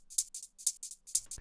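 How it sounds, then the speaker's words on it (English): A chopped hi-hat loop in an electronic track, bright hissy hits in a quick repeating pattern with accented offbeats, ending with a low thump entering. "Just a little loop that's been chopped up and we're just exaggerating the offbeat."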